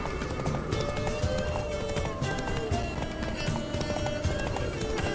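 Horse hooves clip-clop in a quick, steady galloping rhythm in The Witcher 3, with game music and ambience layered underneath throughout.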